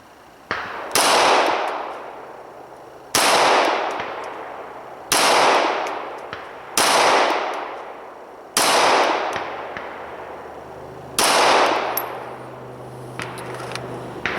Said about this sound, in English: and then just slow fire 5 shots